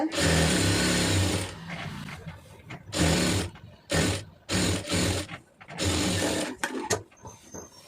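A sewing machine stitches a chudithar in several close, loud bursts of rapid mechanical clatter, with short pauses between runs and no speech.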